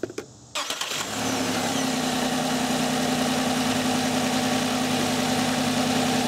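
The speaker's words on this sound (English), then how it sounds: "So now I'll start the vehicle and do the exact same test." A car engine cranks briefly, catches, and settles into a steady idle during an EGR valve test, rumbling loudly and continuously with a low, even hum.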